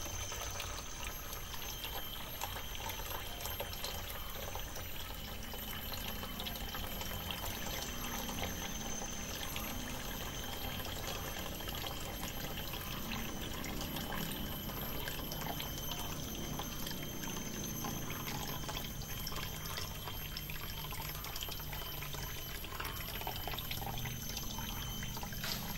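Water is poured off copper sediment from a container, a steady, faint trickling and splashing that runs without a break for the whole stretch.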